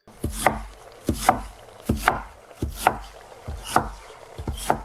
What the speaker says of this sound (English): Chopping clicks are sharp and clean though